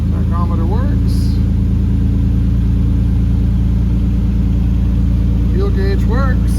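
A 1958 Austin Healey 100 6 BN4 idles after a cold start, its engine a loud, steady low rumble with an even pulsing beat filling the whole clip while someone talks over it at the start and end.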